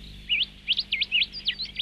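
Parrot chirping: a series of about seven short, bright, upward-sweeping chirps in quick irregular succession, clear and fairly close against a quiet background.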